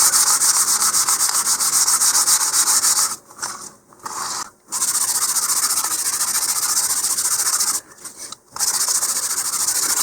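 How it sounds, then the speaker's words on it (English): A 150 grit sandpaper rubs briskly across the faces of model rocket fins for the Enerjet Lil' Grunt, a loud continuous hissy scrape broken by two short pauses. "I'm going to start with some 150 grit sandpaper, and I'm just going to sand all the faces here."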